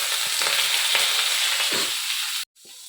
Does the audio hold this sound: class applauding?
no